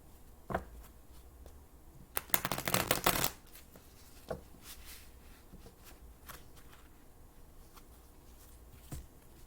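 Tarot cards shuffled by hand: a dense burst of riffling in the middle, with scattered soft taps and slides of the deck before and after, close and fairly quiet.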